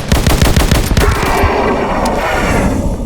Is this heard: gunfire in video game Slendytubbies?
yes